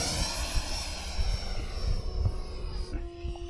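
A radio-controlled model airplane takes off at Fritz Field, its engine giving a steady, fairly close whine and roar that shifts in tone near the end.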